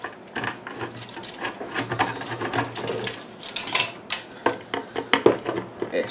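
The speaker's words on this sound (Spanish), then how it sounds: "por la parte trasera, lleva los 4 tornillos del disco duro" Small metal screws being worked loose from a hard drive inside a Dahua DVR, giving irregular close clicks, scrapes and taps of a screwdriver against metal casing with no talking.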